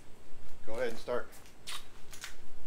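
Short scraping strokes of a sharp blade taking parts off during maintenance on a ZK72, a few quick rasping passes near the microphone, with someone talking just before.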